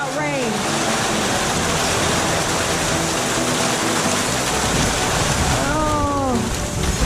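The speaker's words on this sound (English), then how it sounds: "This is just flat out rain." Heavy rain pours nonstop in a garden and backyard chicken area as Hurricane Dorian approaches, a dense, loud hiss with a few brief higher calls rising over it.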